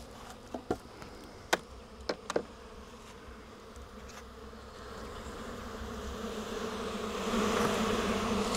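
Honeybees buzz steadily throughout a nuc-to-hive transfer as frames are moved into a new 10-frame box, with a few sharp knocks and clicks of equipment early on and the hum swelling louder toward the end.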